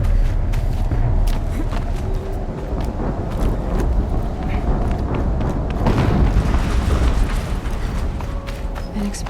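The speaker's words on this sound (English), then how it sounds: "An explosion." Explosions go off in the video game Horizon Zero Dawn: rumbling low booms and debris crackle under a noisy, wind-like game soundscape, with a broad burst around the middle of the clip.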